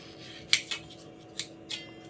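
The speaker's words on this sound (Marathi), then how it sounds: "धुवून घेतले हो आता कापूया आणि त्याचं घर काढूया" Knife slicing through washed Hapus mangoes to free the stone, heard as a few sharp, close clicks and scrapes against a board or plate, spaced apart over a low steady background hum.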